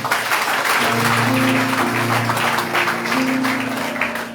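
A church congregation in Caradeux, Haiti applauds, with a dense, loud wash of clapping mixed with sustained tones from voices or instruments in the room.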